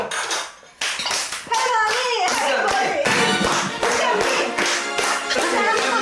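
Children clap together at a family meal table laid with a grandmother's 30-dish Jeolla-style spread of octopus and cockles, short bursts of bright near handclaps amid cheerful chatter and children's voices.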